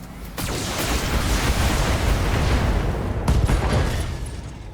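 Mech weapons fire and a booming ammunition explosion in BattleTech, a dense, roaring wash of blasts and rumble that swells in the middle with a sharp crack near the end, with no voices.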